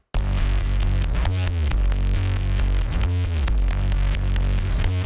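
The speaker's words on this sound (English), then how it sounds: "So here's the bass." Heavily processed bass guitar run through Guitar Rig 7 effects, playing a loud, continuous distorted line with rhythmic note changes and a thick, sustained low end, alone with no talking.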